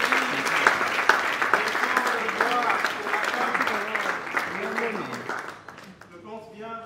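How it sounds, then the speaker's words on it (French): An awards ceremony crowd applauds loudly, with sharp claps standing out early, while voices call and talk over the clapping as it fades toward the end. "nous allons inviter ici Madame Mujinga Jovi, sous nos applaudissements."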